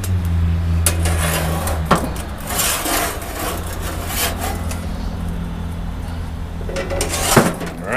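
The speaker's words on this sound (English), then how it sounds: "Let me move it around a little bit. Let me get my big spatula." A big metal spatula scrapes and clinks against a grill grate while shifting a lasagna pizza, giving repeated rasping scrapes and sharp metallic knocks over a steady low burner hum.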